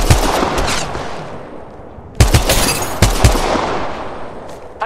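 Gunfire in the mobile battle royale Apex Legends Mobile: rapid bursts of loud, close weapon shots, a stuttering automatic volley followed by two sharp clusters of cracks, with no talking.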